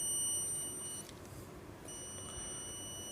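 A multimeter in continuity mode gives a steady high electronic beep that sounds twice, held for about a second each time, against faint room noise.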